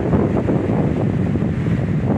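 A strong southwest wind of about 15 knots buffets the shoreline in a steady, loud, rumbling roar that fills the whole stretch, with no voices.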